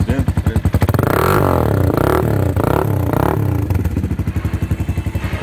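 A Hi Speed Infinity SR 150cc motorcycle engine runs close up, starting with a rhythmic idle thump, revving loudly through the middle, then settling back to a pulsing idle.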